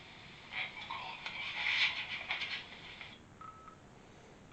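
Phone tones, a quick run of beeping keypad-style notes followed by a short isolated tone, fairly faint against a quiet indoor background.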